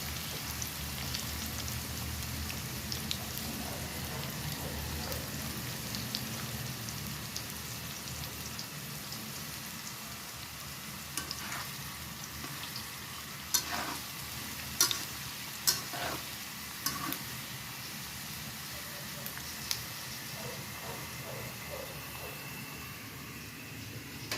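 Peanuts frying in oil for Filipino adobong mani, with a steady broadband sizzle and occasional sharp scraping ticks of stirring, close and moderately loud, no voices.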